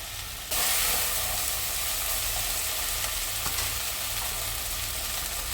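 Cabbage Manchurian sizzles loudly in hot oil after Schezwan chutney sauce goes in, a steady close hiss that starts abruptly and stays constant throughout.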